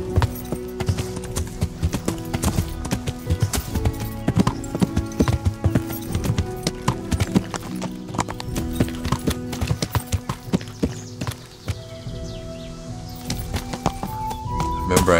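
Horse hooves clip-clop steadily in the medieval game Kingdom Come: Deliverance, a continuous brisk rhythm of hoofbeats with a jangle of tack and an occasional whinny, close and loud throughout.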